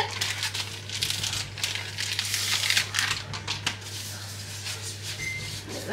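Plastic food packaging crinkles and crackles close up while it is handled and torn open in a kitchen, irregular bursts of crackling over a steady low hum.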